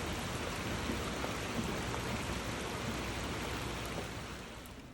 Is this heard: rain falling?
yes